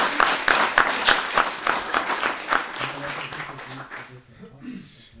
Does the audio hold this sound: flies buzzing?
no